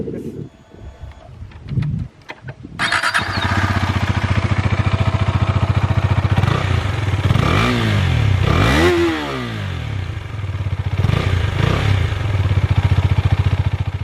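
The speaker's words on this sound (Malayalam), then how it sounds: "നമുക്ക് വണ്ടിയുടെ എക്സോസ്റ്റ് നോട്ട് ഒന്ന് കേൾക്കാം." A Husqvarna Svartpilen 250 motorcycle starts up and settles into a loud, close exhaust note, with several sharp revs rising and falling over a steady idle while someone talks over it.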